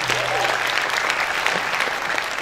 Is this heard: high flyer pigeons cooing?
no